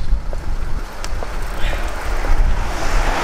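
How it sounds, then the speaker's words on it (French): Strong outdoor wind roars steadily across a microphone at the start of a long cycling ride to Boulogne-sur-Mer, a constant low rumble with gusty swells and no clear pauses. "il caille, il y a du vent"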